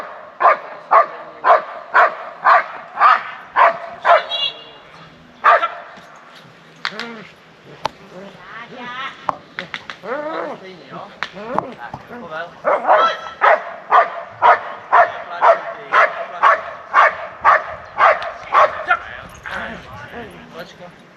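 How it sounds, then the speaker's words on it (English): A dog barks in rapid, loud bursts during attack training at a quarry in Brno, Czech Republic, with a steady run of barks at the start and again later, broken by a stretch of yelps and speech in between. "So they teach the dog to bark, and then upon command to attack."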